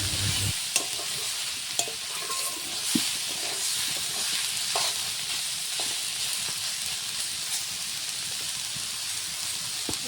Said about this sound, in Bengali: একদম শুকনো খোলায় তেল দিয়ে ভাজতে থাকতে হবে